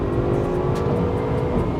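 A repaired, previously wrecked Audi RS7 pulls hard under fast acceleration, its engine a steady, loud, full-bodied roar that stays close and continuous throughout.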